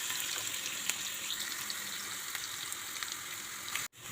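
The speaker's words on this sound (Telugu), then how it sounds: "ఆ ఉల్లిపాయ ముక్కలు, పచ్చిమిరపకాయ ముక్కలు, అల్లం ముక్కలు ఈ 3 వేసి దోరగా వేయించండి" Onion, green chilli and ginger pieces fry in a pan with a steady, close hiss of sizzling oil and faint scattered crackles. The sound cuts out abruptly near the end.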